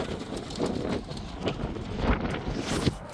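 Strong wind buffets the microphone outdoors while pigeons are readied for a sea-crossing race toss, producing gusty rumbling surges that rise and fall close up, with no talking.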